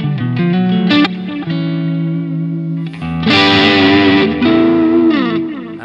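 Electric guitar played through an Orange OR80 amp model in a Line 6 Helix, with heavy distortion and chorus-like effects. Ringing chords and sustained notes sound alone, swelling louder and brighter partway through.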